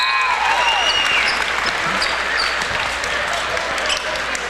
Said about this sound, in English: As we have a raucous crowd here tonight